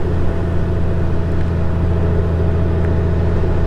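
A 2023 Honda Gold Wing motorcycle's engine and transmission while riding produce a loud, steady low rumble and drone with constant road and wind noise, and no break in the sound.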